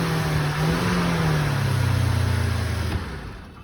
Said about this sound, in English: Gonna rev it up.